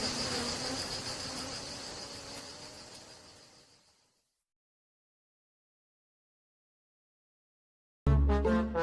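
Bees swarm and buzz as they leave their hive, a dense insect drone that fades out over about four seconds into silence, followed near the end by a burst of music.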